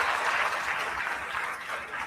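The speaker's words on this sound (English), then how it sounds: "Let's give them a round of applause" An audience applauds at a pageant coronation night, a dense steady wash of clapping held throughout with no talk over it.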